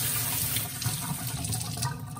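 Running tap water splashes over an OXO garlic press held under the faucet, a steady, moderately loud rushing stream with slight fluctuations as the press is rinsed.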